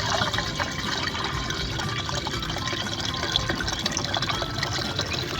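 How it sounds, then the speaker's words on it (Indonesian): Liquid pesticide is poured and rinsed into a sprayer tank in a chili seedling nursery, a continuous splashing, gurgling pour with a few drips, fairly loud and close, running steadily without talk. "Nah, kita tuangkan saja pada tangkinya,"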